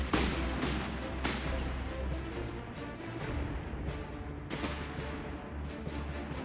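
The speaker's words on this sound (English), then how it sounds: "Gunfire up ahead." Gunfire in the World War II strategy game Company of Heroes 3: sharp, distant cracks of rifle and artillery fire go off in irregular bursts over a low battlefield rumble.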